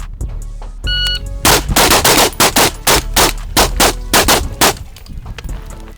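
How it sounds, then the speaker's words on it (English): A rapid string of loud suppressed gunshots from a rifle fitted with a Surefire RC3 suppressor at a shooting range, about a dozen sharp reports in quick succession after a brief beep, fired on targets. "next course of fire to the upper A zones. 3 rounds on each target."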